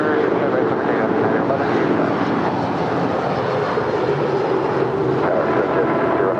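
An airliner takes off at LAX, giving a loud, continuous broadband engine roar that fills the whole stretch without letting up.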